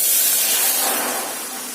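Homemade ice-cream mixture made with fresh cream is poured into a heated pan, giving a steady broadband hiss that fades slightly over a couple of seconds, with no talking.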